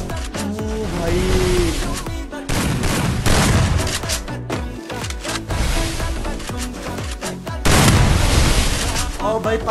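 Rapid, loud volleys of gunfire in a Free Fire solo-versus-squad match, with repeated sharp shots and heavy booming bursts nearly throughout, under a player's talk.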